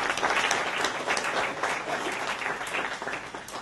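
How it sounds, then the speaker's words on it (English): Audience applause at a summer jam camp concert, a lively, dense round of clapping from a crowd that stays strong throughout before easing slightly at the end. "Please give him a big round of applause,"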